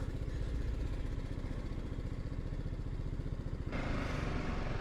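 A motorcycle on a Sweden-to-Pakistan ride idles and putters steadily while being parked beside a bank, its engine running close and continuous throughout with no voices.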